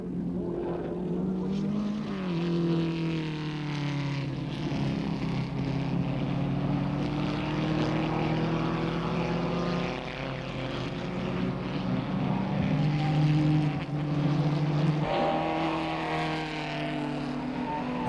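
Several 1950s race cars, a Cooper and a Lotus 11 among them, roar past at Le Mans, their engines rising and falling in pitch as they chase one another. The sound is loud and continuous throughout, with no voices.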